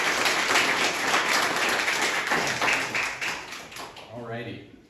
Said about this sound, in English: start with a round of applause for everyone who helped put these together